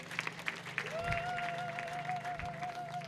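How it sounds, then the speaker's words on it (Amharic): A church congregation claps together in a steady, rhythmic beat during a gospel service. Sustained keyboard-like tones and a low hum run underneath. "አጨብጭቡ ለጌታ ክብር"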